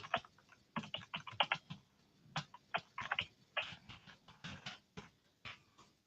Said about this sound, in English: You can email it directly to someone simply by coming in here and typing in the email address